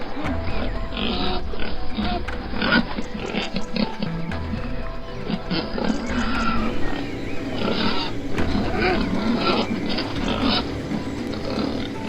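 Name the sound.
herd of wild boars in cornfield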